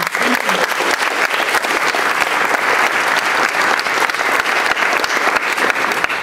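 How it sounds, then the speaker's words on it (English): Loud, continuous applause fills the room at an engineering conference, a steady roar of many hands clapping at close range that holds without letup. "Let's go ahead and give them a round of applause."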